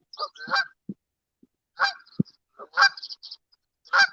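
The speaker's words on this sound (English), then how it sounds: "that goose is super annoying right now" A goose honking near a fishing spot, with several loud, harsh calls coming in short bursts and clusters, close to the listener, with a few low thuds between them and no talking.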